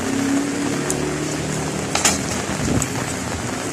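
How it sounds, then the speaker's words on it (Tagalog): Heavy rain pours steadily onto surfaces, a constant loud patter with a few sharper splashes and knocks partway through. "napakalakas ng ulan, umuulan na"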